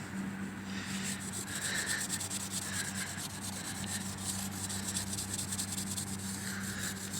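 A chrome car rim is rubbed by hand to remove pitting, making a steady, close, abrasive scrubbing with rhythmic back-and-forth strokes and no talking.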